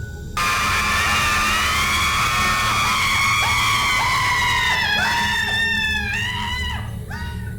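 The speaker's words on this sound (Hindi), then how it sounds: "लेकिन तभी हवा में एक भयानक चीख गूंजी।" A terrible scream echoing in the air as a horror story effect: a long, loud, sustained wailing shriek that bends and breaks into shorter cries near the end, heard alone.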